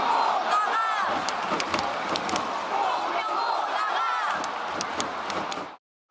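Angry football fans in a stadium chant in protest, a loud massed crowd roar punctuated by sharp rhythmic claps or beats, continuing steadily before cutting off abruptly near the end.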